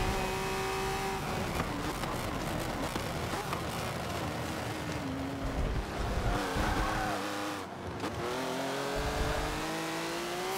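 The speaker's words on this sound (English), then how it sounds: "Flipping and flopping through gears" A touring race car in the Forza Motorsport 7 video game revs and shifts through its gears, the engine note rising and dropping steadily with brief tire squeal, loud and continuous with no talk.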